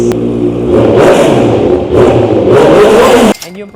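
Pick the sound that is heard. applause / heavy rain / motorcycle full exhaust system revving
motorcycle full exhaust system revving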